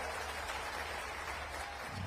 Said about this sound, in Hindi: एक बार जोरदार ताली अटल बिहारी वाजपेयी जी के लिए भी बजाएं।